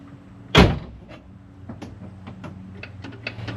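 A door on a Ford Mustang Fox Body slams shut with one loud, close thud, followed by faint clicks and light rattles as the body settles.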